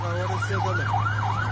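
An emergency siren wails in repeated up-and-down sweeps above a constant low drone, amid fighting between Afghanistan and Pakistan; loud, with no talking.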